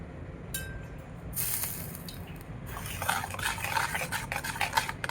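Bhaji batter is stirred in a bowl after a spoonful of hot oil is added, soft close scraping and mixing sounds with light clinks of a spoon, growing busier toward the end.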